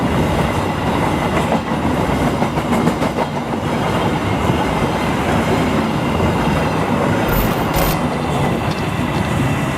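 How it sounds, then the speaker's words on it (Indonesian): A long freight train rumbles steadily past close by at night near an abandoned station in Bogor, wheels clattering over the rails in a continuous heavy roar with a brief high squeal near the end. "Barusan kereta lewat. barang lewat tepat tengah malam banget"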